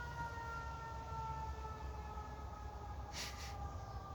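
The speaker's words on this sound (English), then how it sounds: "More sirens." A steady, distant siren drone holds throughout, with a brief higher burst of noise near the end; no talking.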